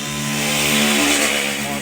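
A 2010 Suzuki Satria FU motorcycle engine revs in a loud, buzzing, high-pitched drone that swells briefly and then settles, close and alone.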